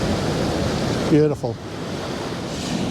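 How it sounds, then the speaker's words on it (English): White water rushes loudly and continuously, a dense roaring wash close by, while someone briefly speaks a single word over it. "There we go, some white water."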